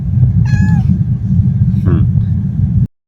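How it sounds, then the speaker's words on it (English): A cat lets out one clear, drawn-out meow close by, then a shorter second call, both over a steady low rumble of engine noise, and a voice can be heard faintly. "Kitty, you're being very noisy"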